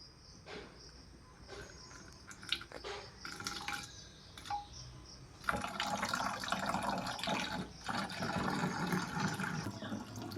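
Water runs into a bottle at home, a steady rushing pour that begins about halfway through and carries on to the end, with crickets chirping throughout and a few faint clinks before it.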